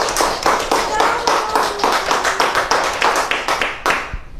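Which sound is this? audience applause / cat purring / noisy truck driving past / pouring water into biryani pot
audience applause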